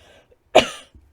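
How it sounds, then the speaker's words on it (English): A single sharp, close cough from a person sitting indoors, followed by a brief fading breath and near silence. "I'm on the verge of a cough."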